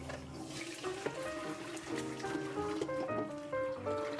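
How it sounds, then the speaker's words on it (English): Chicken bone stock poured from a pot through a colander into a stock pot, a steady splashing, gurgling flow of liquid with rising bubbly tones, close and continuous without talk. "dump all the bones and the meat into a colander so all the stock, the rich stock, will drip out into a stock pot"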